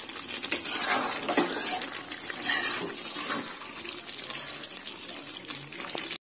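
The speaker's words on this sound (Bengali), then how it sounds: "তো এবার আমি জল দিয়ে দেবো এতে" Water is poured from a vessel into a pan of chicken curry with potatoes, a steady close splashing rush lasting several seconds, alone without speech.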